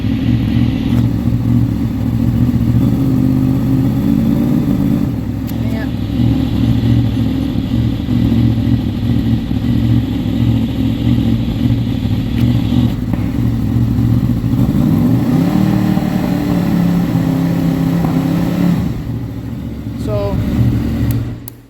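A Honda VFR800 motorcycle engine, its stator just repaired after a charging fault, runs steadily up close, then rises in a brief rev near the end before settling back to a steady idle.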